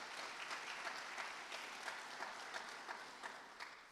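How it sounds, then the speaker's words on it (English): Steady applause from an audience at a community awards ceremony honoring a Gold Award Girl Scout, a dense even patter of many hands clapping at moderate distance, sustained throughout. "So please join me in congratulating the following Gold Award Girl Scout, Navya Venkatesh."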